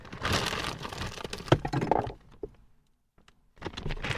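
A plastic packaging bag from a delivery parcel is handled, giving dense crinkling and rustling for about two seconds, a few soft thumps, a short quiet gap, then more crinkling near the end.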